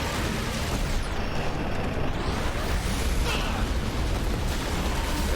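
Balloon weapon blasts in the side-scrolling shooter Jets'n'Guns 2, a dense, loud wash of continuous explosions and booming game noise with no pause throughout.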